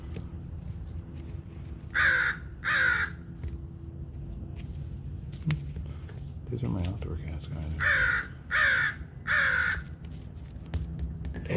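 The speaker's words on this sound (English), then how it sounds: "As the crow calls." Several loud crow caws come outdoors in two groups, first a pair and later a run of three harsh calls. A voice talks quietly between and under them.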